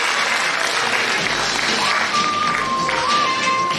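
Audience applause at a kindergarten year-end show, a steady dense wash of clapping throughout, with a faint tone and some voices mixed in.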